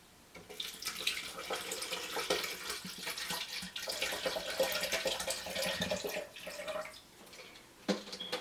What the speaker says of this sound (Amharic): መጀመሪያ ውሃ ጨምራለሁ።